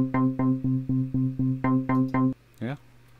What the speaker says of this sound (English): Dark Trance Bass, and it sounds like this.